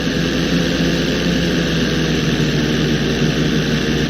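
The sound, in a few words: stunt plane engine in video game GTA V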